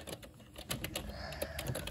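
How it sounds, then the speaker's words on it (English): Keys clatter in quick, uneven bursts on a gaming keyboard with new switches, a faint, close tapping set against a quiet room. "got a gaming keyboard in there, which with new switches"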